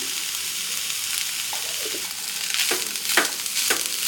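Chicken filling with pepper and garam masala sizzles in a pan while being stirred, steady frying hiss with a few scraping strokes of the spoon toward the end, no talking.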